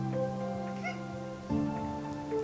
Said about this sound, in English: There seems to be a cat on my box.